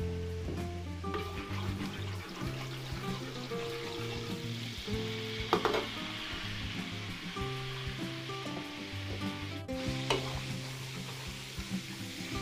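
Margarine frying in cooking oil in a pan, a steady sizzle and crackle with occasional stirring scrapes, cooked for a Filipino fiesta goat dish.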